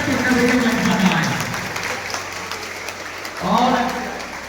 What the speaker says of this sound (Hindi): तालियां जब तक बजती रहे जब तक प्रखर भैया मंच पर आए।